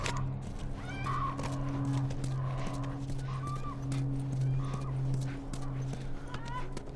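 A horse in The Last of Us snorts and whinnies amid soft hoof clops, moderately close, under a steady low drone and occasional talk.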